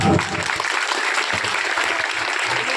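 An audience of schoolchildren at a Teachers' Day event applauds after a speech, a steady wash of many hands clapping that opens with a louder thump and holds evenly throughout.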